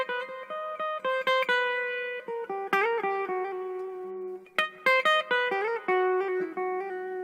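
A clean, plucked melody moves through the exotic-sounding double harmonic scale, single notes ringing one after another at a moderate pace, played alone.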